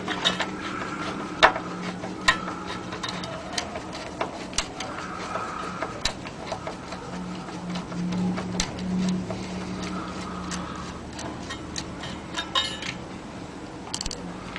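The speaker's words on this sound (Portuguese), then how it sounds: "Vamos tirar os parafusos." Screws are taken out of the power transformer inside a micro system stereo, producing sparse faint metallic clicks and small ticks over a quiet low hum, close by and without talking.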